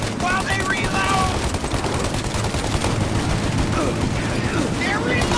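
Sustained automatic gunfire and rapid shots in the Mafia video game, a dense continuous fusillade during a car shootout, with shouting voices mixed in.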